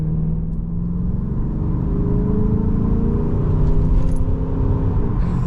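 A deep, rumbling 6-litre V8 engine in a VZ SS Z car revs steadily, its pitch climbing slowly and easing back, loud and close with no talking.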